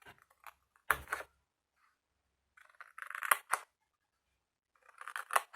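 Short, crisp snips of scissors cutting paper scrapbook embellishments straight across, in a few separate clusters of quick cuts with silence between.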